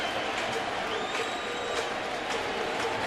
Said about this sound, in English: Oh, this crowd is alive.